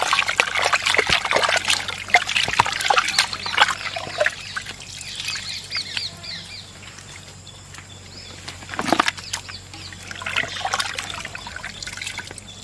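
Water trickles and splashes while cut chicken pieces are washed before frying in an outdoor village kitchen, with bursts of pouring and rinsing that come and go over steady background, and birds or ducks faintly audible nearby.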